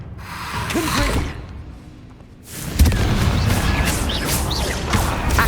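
A Confringo spell explodes in Hogwarts Legacy, a loud burst and crash after a quieter stretch, followed by a rumbling, debris-filled tail.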